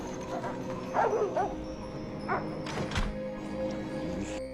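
Sled dogs at an abandoned polar station give a few short barks and yips, with a whimper and a thunk, fairly close over a steady background hum.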